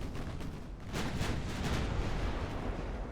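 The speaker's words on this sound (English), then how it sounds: "Oh, here come the torpedoes." Torpedo hits on warships in Ultimate Admiral: Dreadnoughts, an 1890s naval battle game, come as a broad, rumbling explosive roar that swells after the first second and keeps booming steadily, loud and dense, with no voices.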